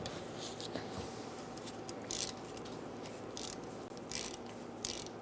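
Ratchet on a 10mm socket working loose the brake hose bolt on a 2000-2007 Ford Taurus front caliper, a few short bursts of quick clicking rising over steady low garage hum.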